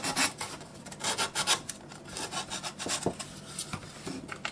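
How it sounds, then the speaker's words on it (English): Sandpaper rubs back and forth over the surfaces of a Freewing L-39 model airplane, making quick rhythmic rasping strokes, close and moderately loud, with no speech. "So sand all those surfaces"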